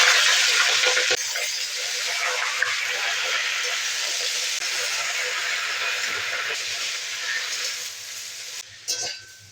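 Greens and potatoes frying in a pan give a loud, steady, hissing sizzle that runs unbroken for several seconds before thinning out, with a brief clatter near the end.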